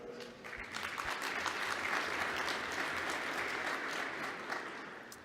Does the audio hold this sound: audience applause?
yes